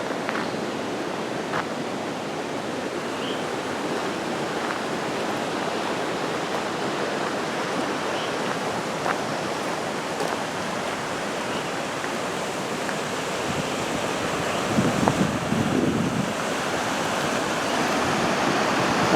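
The Saint-Maurice river at the Forges du Saint-Maurice in Trois-Rivières gives a steady, broad rush of flowing water, loud and continuous throughout with no voices.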